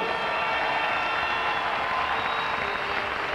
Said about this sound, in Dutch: Applaus voor beide heren